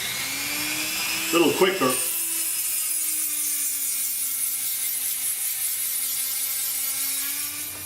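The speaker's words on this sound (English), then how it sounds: "I'm going to use a Dremel with the sandpaper in it and see how this takes the rust off a little bit better" A Dremel rotary tool fitted with sandpaper whines steadily against a rusty vintage bicycle light, a sustained high-pitched motor tone with brief scraping grinds early on, close by, while someone speaks briefly.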